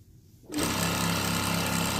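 A sewing machine starts up after a quiet half second and stitches T-shirt quilt pieces together with a loud, fast, even rattling hum close by, running without pause to the end.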